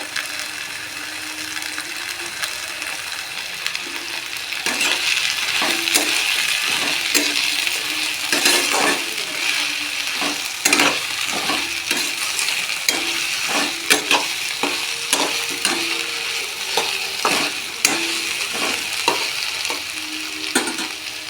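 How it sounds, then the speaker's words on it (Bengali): Taro leaves fry and are stirred in a pan, with a steady sizzle and repeated clinks and scrapes of the spatula against the metal throughout. The sound is close and there is no talk. "কচু শাকটা ভাজা ভাজা হয়ে এসছে"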